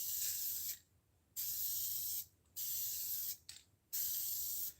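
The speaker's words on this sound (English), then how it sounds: "So you just kind of mist it like this." An aerosol can mists Sim dye onto a tire cover in four short bursts, each a sharp close hiss separated by brief silent gaps, with no voices.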